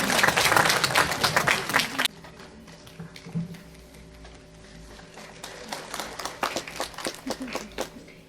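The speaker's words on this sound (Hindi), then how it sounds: "मैं गुजारिश करूंगी तालियों के साथ हम इनका स्वागत करेंगे." Audience applause at a one-day skill workshop welcomes a guest with a burst of dense clapping that stops abruptly, followed by a quieter stretch and scattered, rising claps near the end.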